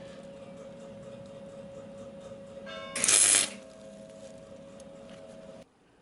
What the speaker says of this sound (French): Mon premier point de soudure étant fait